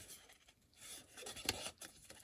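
Scissors cut around a paper figure in a close, quiet series of soft snips and paper rustles, with one sharper click midway.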